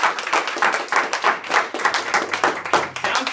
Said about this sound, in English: I have to give him another round of applause